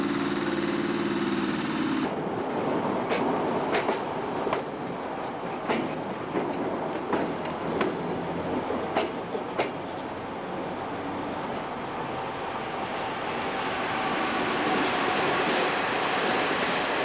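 A BoBo diesel locomotive, class DL16, hauls a freight train of HÉV cars on MÁV rails toward Óbuda station, its engine droning steadily while wheels click rhythmically over rail joints, loud and close throughout.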